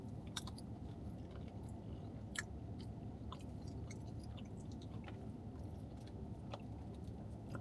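Chili cheese nachos from 7-Eleven being chewed close to the mic, a steady stream of soft crunching and wet munching with a few sharper bites, no talking.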